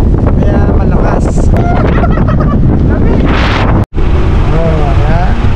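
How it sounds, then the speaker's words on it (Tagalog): Strong wind at a breezy campsite in Bangui, Ilocos Norte, roaring loudly and steadily into the microphone with a brief dropout near the end, while people talk over it. "Lakas ang hangin."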